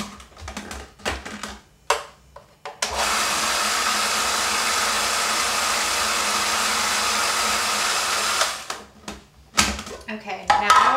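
A blender or food processor grinding flax seeds and almonds into nut butter, a steady loud whirring roar lasting several seconds, framed by brief clicks and handling noises before and after.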